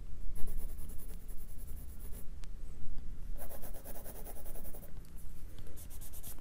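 A brush rubs watercolor paint on paper while sketching a stone wall building, soft scratchy scrubbing strokes in close, repeated bursts.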